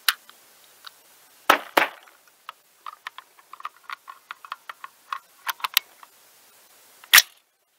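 A 6.5 Grendel rifle fires Power Pro varmint loads from a 20- or 24-inch upper at a range. A few sharp, spaced cracks stand out among scattered small clicks and ticks.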